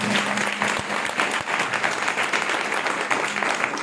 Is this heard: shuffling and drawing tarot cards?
no